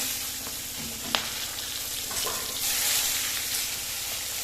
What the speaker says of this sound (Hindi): तो बैंगन में करूंगी डीप फ्राई इस तरह।